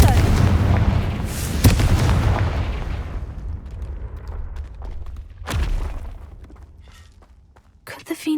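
A Confringo fire spell bursts in Hogwarts Legacy with a loud, booming blast that rolls off into rumble, followed several seconds later by a second sharper impact and scattered clatter.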